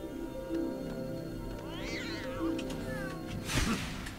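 A cat meowing in the video game Lego Harry Potter, a couple of clear drawn-out meows over game music, with a player's voice talking faintly underneath.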